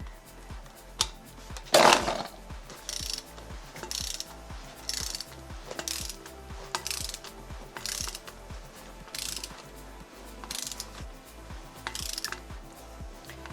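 Rapid ratcheting clicks from a torque wrench tightening an 8mm facade anchor, close and crisp, in short repeated bursts with a sharp clunk early on and brief pauses between pulls.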